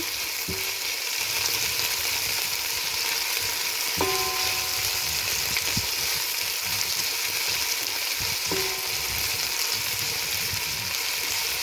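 Sliced onions sautéing in a pan for tomato rice give a steady, loud sizzle, broken by a few sharp utensil clinks against the pan.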